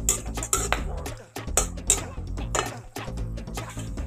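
Whole spices (bay leaf, garam masala, cardamom, cloves) go into a pot for prawn malaikari, with repeated loud metallic clinks and scrapes of cookware and utensils, close and busy throughout.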